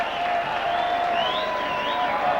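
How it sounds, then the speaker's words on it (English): St Helens fans at a 1986 rugby league derby against Wigan cheer and applaud in a big stadium, a steady loud crowd roar with whistles rising above it. "Big cheer from the Saints contingent."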